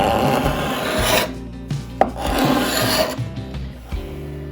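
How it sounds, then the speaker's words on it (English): Steel card scraper rasping finish off the corners of a wooden dining table, loud close scratchy strokes in several long passes with short breaks, no voices. "we've found the card scraper finally. So it's been really helping me out with these corners"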